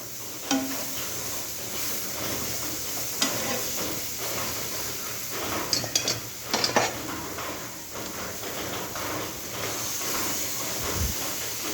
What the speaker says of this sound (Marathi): कारले टाकून घ्यायचे आहे आणि सगळं मिक्स करून घेऊन